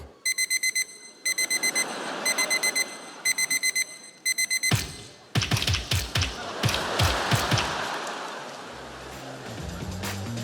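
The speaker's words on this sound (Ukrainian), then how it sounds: "окрім хіба що будильника вранці після нічних повітряних тривог" An alarm clock rings in the morning with rapid bursts of high electronic beeping in repeated groups. It then gives way to clattering mechanical noise and a low rumbling hum, loud and close.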